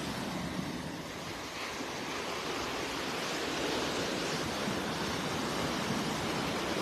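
Waves wash onto the beach at daybreak in North Naples, Florida, a broad continuous surf roar with gentle swells in level, rising slightly toward the end, no voices.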